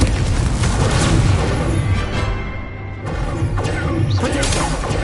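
Incendio fire spell cast in the video game Hogwarts Legacy amid combat: a dense, loud wash of whooshing bursts, booms and crashing impacts, with several sharp flares rising over continuous battle noise.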